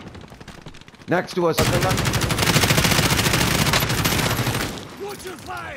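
Heavy gunfire in a Call of Duty: Warzone match, a loud sustained burst of rapid automatic shots lasting several seconds. Players talk before and after the firing.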